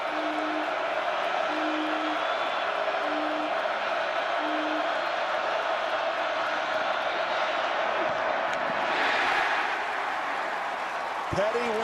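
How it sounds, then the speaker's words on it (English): A packed college football stadium crowd at West Virginia versus Baylor roars loudly and continuously on third down, a dense wash of cheering and whooping that swells near the end, with a voice briefly heard. "This crowd is loud."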